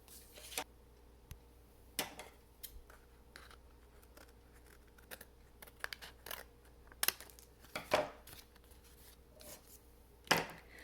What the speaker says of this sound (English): I can turn my card over and cut the excess off